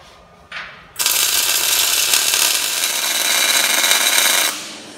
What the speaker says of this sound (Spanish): Venga, seguimos soldando.